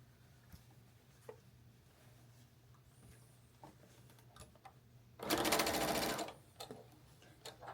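Sewing machine stitching a charity quilt block, one loud steady burst of whirring lasting about a second, preceded and followed by quiet handling clicks and low hum, with no voice.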